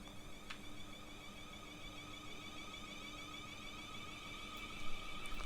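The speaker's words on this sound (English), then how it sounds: "This is what you call spot-on traction motor sounds." BR Class 444 electric train traction motors in a video game, a faint steady whine with layered high tones and a low hum, continuous and unbroken.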